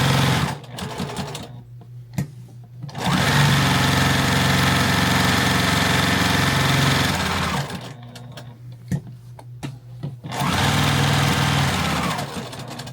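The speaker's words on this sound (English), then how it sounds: "we're going to sew the top of this and go all the way around." A sewing machine stitches a patriotic fabric flag in two long, steady runs, each a few seconds of loud whirring, with short quiet pauses before and between them.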